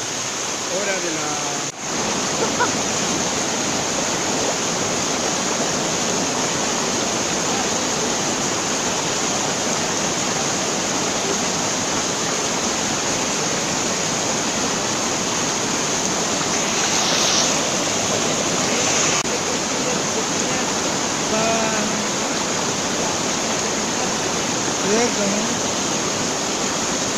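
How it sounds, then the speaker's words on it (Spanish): A river near the village of San Ramón in Santa Cruz Barillas rushes steadily, a dense unbroken roar of water with faint birdsong and occasional voices beneath it. "estamos acá en un río que se llama"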